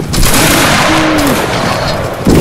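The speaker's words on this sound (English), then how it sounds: "Wait for the next volley, everyone." Roblox war game battle with a line of soldiers firing musket volleys, a loud, dense crackle of many overlapping shots with a heavy burst at the start and another near the end, amid battlefield noise.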